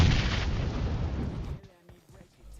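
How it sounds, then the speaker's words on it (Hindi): PUBG Mobile gunfire: a loud sustained burst of booming shots and blasts for about a second and a half, then decaying to quieter scattered pops and clicks, close and dominant. "ना जाने कहाँ पे ही गोली चला रहा है यार"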